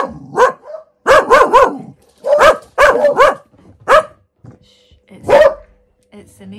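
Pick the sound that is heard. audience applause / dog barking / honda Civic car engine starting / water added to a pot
dog barking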